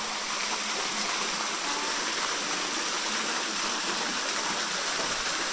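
A waterfall and its flowing stream roar in a steady, dense rush of water, close and continuous throughout with no voices.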